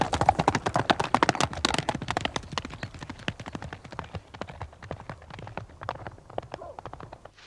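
Horses' hooves clip-clopping at a steady walking rhythm, a dense run of sharp, fairly close knocks that loosen and thin out toward the end, with no voices over them.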